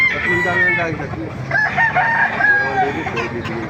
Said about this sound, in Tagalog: Ang ganda ng manok oh.